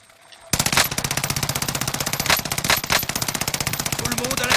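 Rapid automatic gunfire in the Call of Duty Fortune's Keep map, aimed at the player, as a sustained loud burst of fast shots that begins abruptly after a brief quiet moment and continues steadily.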